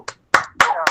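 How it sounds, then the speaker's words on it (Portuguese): A few scattered claps come through an online meeting with open microphones, as an audience applauds three people; the hits are uneven and sparse, mixed with faint voice-like tones over the call. "uma salva de palmas para essas 3 pessoas maravilhosas"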